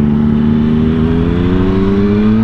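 A 2009 Harley-Davidson Dyna Super Glider motorcycle engine pulling hard in a steady, loud rising drone as it accelerates into a power wheelie, close by and without talk.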